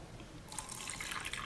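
Buffer liquid poured into the chamber of an SDS-PAGE gel box, a soft close trickle and splash of running liquid that starts about a third of the way in and continues steadily.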